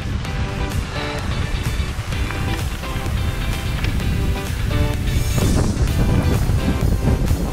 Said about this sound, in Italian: Farci compagnia, abbiamo il vento